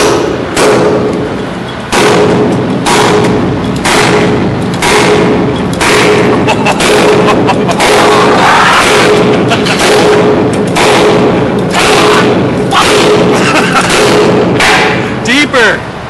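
Steel pins pounded in on a construction site, a long run of heavy, evenly spaced thuds and metallic blows, loud and close, with workers talking now and then.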